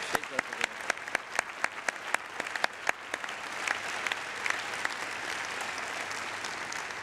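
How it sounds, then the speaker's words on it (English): An audience at a university presidential inauguration applauds. The clapping starts with a few distinct, sharp claps and swells into steady, dense applause from the whole crowd. "a very rowdy applause"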